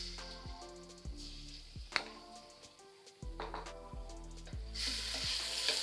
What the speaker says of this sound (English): On my pan, I have melted about a tablespoon of ghee. I'm going to add my crushed garlic.